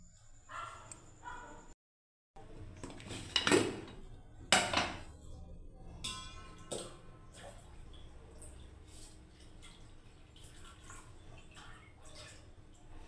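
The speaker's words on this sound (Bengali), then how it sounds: "তো আমি এই এক বাটি চালটা আমি প্রথমে ধুয়ে নিচ্ছি বন্ধুরা ভালোভাবে" Rice is washed by hand in a bowl of water while making lemon rice, with soft sloshing, dripping and occasional clinks against the bowl, faint and close, with a brief silent gap early on.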